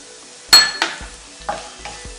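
A spoon stirs chicken curry with turmeric and coriander powder in a hot pan, giving a few distinct scraping strokes over a faint sizzle, spaced irregularly and close by.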